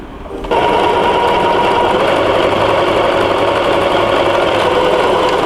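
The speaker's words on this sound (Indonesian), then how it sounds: "kita jahit pinggirnya" A sewing machine starts after a brief pause and runs at a steady fast whir, stitching the edge of a folded fabric bunny bag, loud and close with an even mechanical drone throughout.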